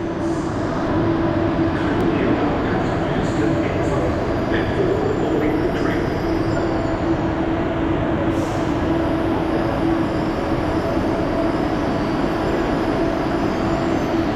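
A KLIA Express airport train runs at a station near KLIA2 in Malaysia, its continuous heavy rumble and rail noise steady and loud throughout with faint metallic squeals on top.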